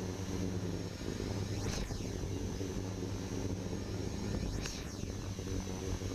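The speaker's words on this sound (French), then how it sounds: "le drone, puisqu'il est fait pour avoir une petite caméra vraiment léger, il y a vraiment de la misère à faire ses mouvements gauche-droite" A small, very light camera drone flies through cold air, its rotors giving a steady, loud whirring drone with two brief rising-and-falling sweeps as it passes nearby.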